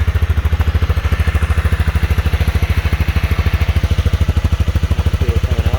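A 2021 Honda CB300R single-cylinder motorcycle idles close to the exhaust, a steady rapid low thumping pulse that stays even and loud throughout with no other sounds.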